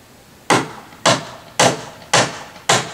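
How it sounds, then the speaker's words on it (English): Hammer blows on wooden dock stairs during construction of a two-story dock: five sharp, evenly spaced impacts about half a second apart, loud and close, each with a short ringing decay and no talking. "I'm now sitting on the stairs to hammer the far side."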